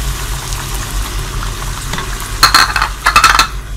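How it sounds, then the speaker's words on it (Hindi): Cashew and almond paste stirred into white chicken biryani in a pot, with soft scraping and sizzling that rises into a few louder clattering stirs near the end. "और अच्छी तरह मिक्स करेंगे।"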